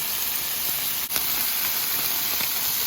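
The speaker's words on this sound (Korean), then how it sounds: "이때 시금치 한 줌을 넣고 힘이 죽을 때까지 볶아냅니다." Steady loud sizzling in a pan as tomatoes are stir-fried with oyster sauce, a constant bright hiss of frying with a few faint clicks, no voices.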